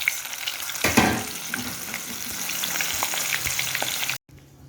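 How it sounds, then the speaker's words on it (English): Hot oil sizzles and crackles steadily over low heat with seasonings in it, a few louder pops and a stirring clatter, then cuts off abruptly near the end. "So the seasonings are on low heat in the oil, so those are sizzling."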